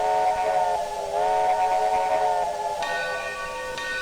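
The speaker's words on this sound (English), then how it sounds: "And then it'll have that chimed whistle sound." Chimed steam whistle of a Union Pacific 0-6-0 locomotive in Trainz 2019, a sustained multi-tone whistle with a slight pitch dip, then a brighter, higher chord near the end, loud and close over a steady hiss.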